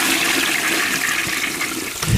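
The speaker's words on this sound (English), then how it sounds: "what is that sound? Toilet?" A toilet flushes indoors in one steady, loud rush of water that lasts the whole stretch and swells into a deeper gurgle at the end.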